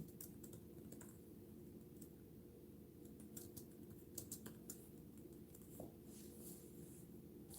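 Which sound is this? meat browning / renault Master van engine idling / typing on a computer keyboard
typing on a computer keyboard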